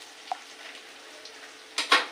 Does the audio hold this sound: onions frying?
yes